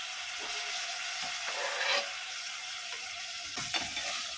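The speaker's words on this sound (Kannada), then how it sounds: "ಚೆನ್ನಾಗಿ ತಿರುಗಿಸ್ಕೊಳ್ಳೋಣ." Tomatoes fry with ginger-garlic paste in a pan under a steady hissing sizzle, with a few soft stirring scrapes and clinks against the metal.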